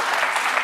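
Studio audience on a daytime talk show breaking into dense, loud applause, a brief sustained burst of many hands clapping.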